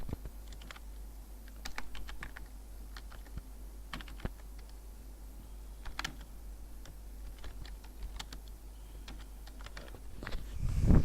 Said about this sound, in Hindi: अब यहाँ पे नाम टाइप करेंगे